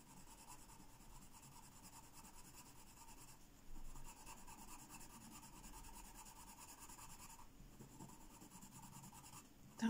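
Phoenix coloured pencil scratching across paper in steady back-and-forth strokes, a soft, dry, slightly rough rasp heard close and quiet, with brief pauses between passes.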